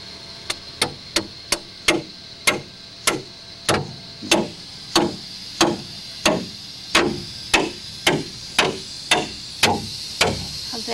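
A two-foot section of rebar is driven into a pre-drilled hole with a hammer, about twenty sharp metallic blows landing in a steady rhythm, close and clear with no talking.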